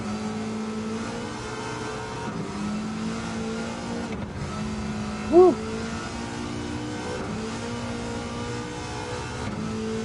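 A car with an engine swap driven in Gran Turismo 7: a steady engine drone climbs in pitch, drops at gear changes and climbs again, continuous and prominent, with a short excited shout partway through.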